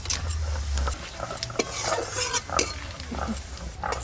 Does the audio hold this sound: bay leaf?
yes